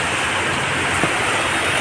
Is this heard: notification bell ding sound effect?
no